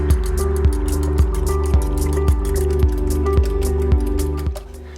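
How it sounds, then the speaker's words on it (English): Eggs are beaten for a tomato and spinach frittata, a fork or whisk knocking against the bowl in quick, regular strokes, close and clear, about nine beats before it stops. "We're gonna beat our eggs before we put our veggies in."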